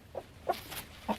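A rooster clucks nearby in a farmyard flock with more roosters than hens, three short, soft clucks spaced apart over a quiet background.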